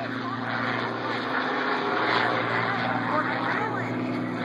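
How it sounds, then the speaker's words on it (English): Scott Yoke flying Bill Yoke's Quicksilver P-51 Mustang at an air show, a loud sustained piston-engine roar overhead with a slight swell midway, an announcer's voice running over it. "Scott Yoke, in Bill Yoke's Quicksilver P-51"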